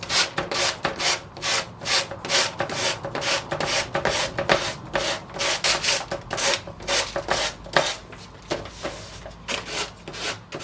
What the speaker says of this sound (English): when I'm sanding the edges or trimming my decoupage paper, I'm only going in one direction